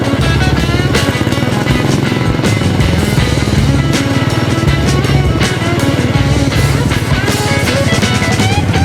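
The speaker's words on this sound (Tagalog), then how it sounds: "Grabe yung motor ko, matalibog." A motorcycle rides over a rough, unrepaired road beside the PNR railway right of way in Manila, heading from Blumentritt toward the Dimasalang flyover; the engine roars loud and steady throughout, with rattling jolts from the bumpy surface.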